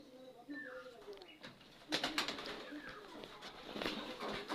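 Soft low cooing of young local pigeons nearby, followed by bursts of rustling and fluttering wings, with faint talk in the background.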